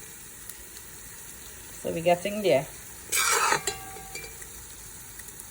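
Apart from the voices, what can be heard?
curry frying in a pot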